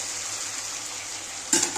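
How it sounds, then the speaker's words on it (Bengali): Water poured into a fried spice paste in a pan for Bengali katla fish curry: a steady close frying hiss, then a brief louder burst of splashing sizzle near the end, with no speech. "জলটা দিয়ে দিচ্ছি"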